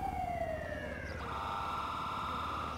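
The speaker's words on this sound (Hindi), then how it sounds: "एम्बुलेंस भी आ गई है घंटे बाद" A wailing ambulance siren in the video game GTA 5 sweeps downward, then shifts into a rapid warbling pattern, heard at moderate distance over a low engine hum.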